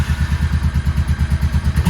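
A Honda NTV 650 V-twin motorcycle idles after its first start in seven years, with a close, loud, rhythmic loping thump that pulses steadily and slightly unevenly, with no speech.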